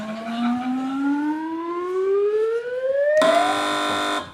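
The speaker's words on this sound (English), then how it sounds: "Fingers on the buzzers, team." On a British panel comedy quiz show, a rising electronic wail sweeps upward, then a loud, harsh, steady buzzer blares for about a second, with no talking over it.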